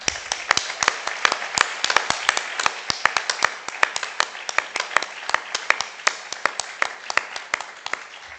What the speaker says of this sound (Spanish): les vamos a pedir, por favor, un gran aplauso para la persona